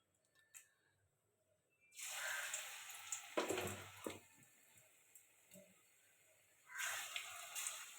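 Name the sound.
pumpkin flower fritters frying in white oil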